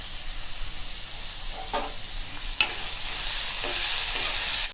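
Onions frying in a pan for groundnut kuzhambu, a steady close sizzle broken by a few scraping stirs of a spoon, with no talk.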